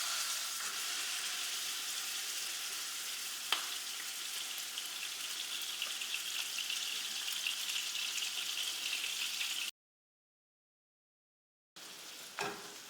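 Grass-fed ground beef fries in avocado oil in a pan, a steady close sizzle and crackle with one sharp tap, briefly cutting out before the sizzling resumes.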